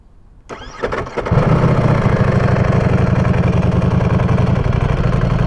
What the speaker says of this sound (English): As you can hear, that dry clutch is rattling.